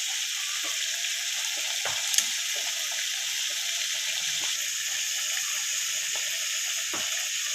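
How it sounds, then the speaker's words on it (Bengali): Sankar (stingray) fish frying in oil gives a steady, dense sizzle throughout, with a few soft clicks and one sharp tap near the middle, and no voices. "এদিকে মাছ ভাজা হচ্ছে"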